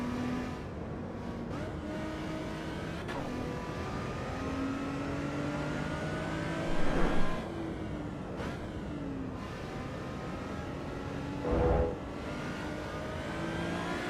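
A car engine in the Assetto Corsa EVO racing game drones and revs continuously, its pitch climbing and dropping through gear changes, with a couple of brief louder thumps.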